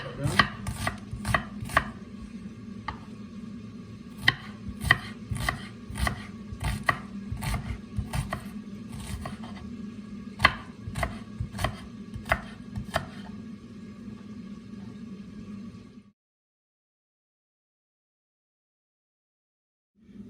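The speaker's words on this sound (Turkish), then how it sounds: "Şimdi de yemeğimin soğanını doğruyorum." A knife chops onions rapidly against a cutting board in quick, uneven strokes for about sixteen seconds, then stops, leaving near silence.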